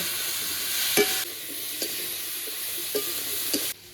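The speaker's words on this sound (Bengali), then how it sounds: "এবার লাউ আর আলুটা ভেজে নেব" Bottle gourd and potato pieces fry in a pan with salt, turmeric and slit green chili, giving a steady sizzle broken by several soft spatula scrapes and taps as they are tossed, with no speech.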